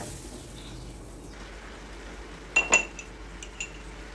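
Chicken stock being stirred into flour in a pan, with a few sharp metallic clinks of a utensil against the pan in close succession over a quiet kitchen background.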